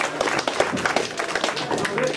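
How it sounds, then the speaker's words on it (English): An audience at a Hope Players stage show gives a brief round of clapping, with distinct hand claps mixed with voices talking over it. "Could we give another round of applause to"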